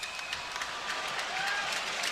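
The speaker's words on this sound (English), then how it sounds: "Fans are cheering as if it's on Kucherov" Hockey fans at an NHL playoff game between the Florida Panthers and Tampa Bay Lightning cheer and clap at a penalty call in a brief, steady roar from the arena crowd. A commentator talks over it.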